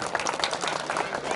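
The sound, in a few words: loud applause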